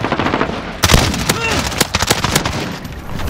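Gunfire in a Call of Duty: Modern Warfare raid on Grazna: sharp, dense bursts of automatic fire and scattered shots, loud and close, with clipped voice callouts between the volleys.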